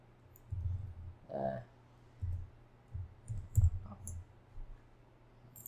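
A computer mouse gives a series of light, close clicks, irregularly spaced and sometimes in quick pairs, against a quiet room background.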